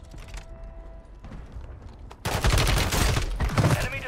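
Gunfire in the Warzone 3 video game: quieter game ambience with scattered clicks gives way to a loud burst of rapid, booming shots, close and dense, continuing to the end.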